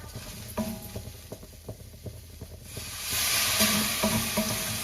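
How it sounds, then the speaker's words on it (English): Mushrooms sizzle in a hot pan as they are stir-fried, with scattered clicks and taps of stirring, the frying hiss swelling louder toward the end. "It's sizzling very nicely."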